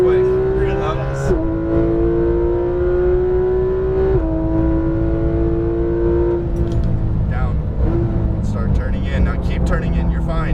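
Engine of a Porsche 911 GT3 RS at full power on a racetrack, a loud sustained in-cabin roar that climbs in pitch and steps down at each upshift, with a driving instructor talking over it throughout.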